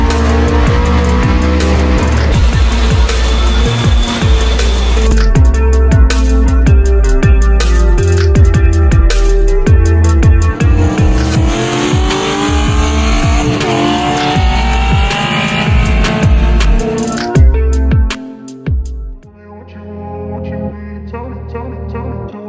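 Ford ED XR6 engine revving up to 6,600 RPM, a loud close roar climbing in pitch through several rising sweeps before dropping away near the end.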